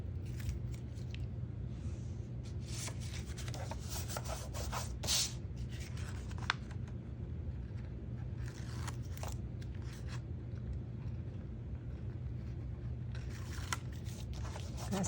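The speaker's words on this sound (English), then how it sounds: "we're going to take and cut off just a little bit at the top of the envelope" Scissors snip the top edge off a paper envelope taped down for a journal pocket, a steady run of close, crisp cutting and rubbing rasps with no talking.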